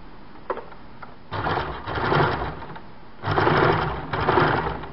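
A sewing machine runs in two steady bursts while folded piping is stitched onto a katori-cut blouse, with a quiet gap of a second or so between them and a soft click before the first run.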